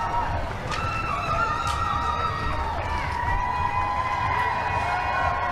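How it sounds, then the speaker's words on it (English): Outdoor crowd at the Victoria Pride Parade cheering and whooping continuously, with high whistles and shouts rising over a steady wash of voices; close and lively throughout. "Lots of cheering, lots of flag waving, lots of smiles."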